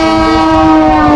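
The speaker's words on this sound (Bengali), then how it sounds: "ব্যান্ডেল যাচ্ছে এই ট্রেনটা, ব্যান্ডেল কাটোয়া লোকাল।" On the Indian railways, the Bandel-Katwa local train sounds a loud, steady horn blast at close range as it passes, lasting just over a second.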